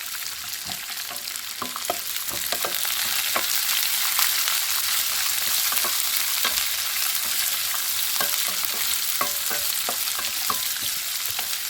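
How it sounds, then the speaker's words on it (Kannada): Onions and red chillies fry in a pan for lemon rice, giving a steady close sizzle broken by scattered spatula scrapes and taps, with no one talking. "ಈರುಳ್ಳಿಯನ್ನು ಸ್ವಲ್ಪ ನಾನು ಫ್ರೈ ಮಾಡ್ಕೊಳ್ತಾ ಇದ್ದೀನಿ."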